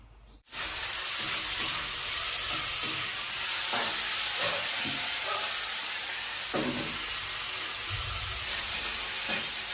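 Spices tempering in hot oil for a potato filling, a steady close sizzle and hiss that runs throughout with occasional stirring scrapes and bursts.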